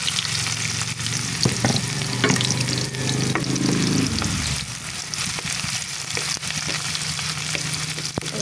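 Garlic and onion sautéing in a frying pan for a Filipino fermented shrimp dish, a steady loud sizzle with stirring scrapes and clatter, close up and continuous with no talking.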